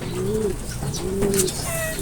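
Pigeons coo close by in soft, low repeated calls, with faint chirps and rustling in the background.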